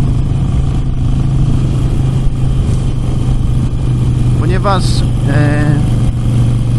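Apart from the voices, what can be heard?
scooter driving past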